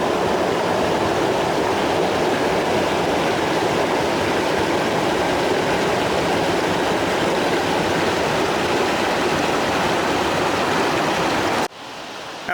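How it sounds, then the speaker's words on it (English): A loud creek tumbles over many small waterfalls on a path toward a rhodonite quarry, with a dense, steady rushing roar filling the whole clip before it cuts off abruptly near the end. "It's very loud, but that's just because we have all these little waterfalls."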